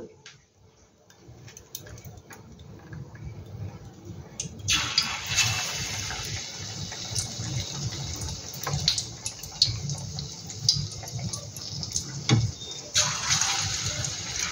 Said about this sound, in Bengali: বন্ধুরা, একইভাবে আমি ভেজে নিই বাকিগুলো।